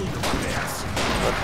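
Rapid bursts of gunfire from the arena shooter video game Super Monday Night Combat, loud and dense, a couple of quick volleys over a brief stretch.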